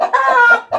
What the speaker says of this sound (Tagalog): paminawas sa ninyong tilaok sa atong manok.